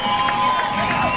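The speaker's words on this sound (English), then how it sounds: "Give the seniors a big round of applause." A crowd in the stands at a high school football game cheers and claps loudly for the seniors in one brief, continuous burst.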